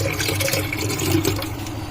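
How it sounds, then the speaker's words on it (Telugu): Melted jaggery pours through a strainer in a continuous liquid splash and trickle, close and fairly loud throughout the brief moment. "బెల్లంలో స్ట్రైనర్ పెట్టి పోయాను."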